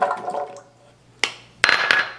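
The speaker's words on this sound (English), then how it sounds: "So I'm going to put more white vinegar in the blender, the rest of the garlic." White vinegar is poured into a blender for chorizo, a short liquid splash followed by two sharp glassy clinks, close and fairly loud.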